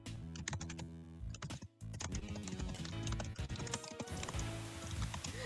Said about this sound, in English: aggressive typing